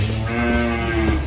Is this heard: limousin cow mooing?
yes